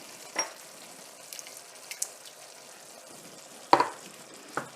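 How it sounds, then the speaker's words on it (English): Tomatoes being stirred into a sizzling bolognese sauce in a pan, a quiet steady fry broken by a few scraping spoon strokes and one louder clatter near the end. "we're just going to stir that in"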